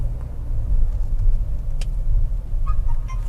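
An MG5 car on a real road during a test drive, heard from inside as a steady low road and engine rumble with tyre noise and a few faint clicks and rattles, no talking.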